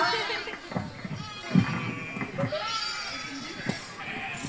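Several sheep bleat in short, wavering calls, close by, mixed with voices and outdoor chatter.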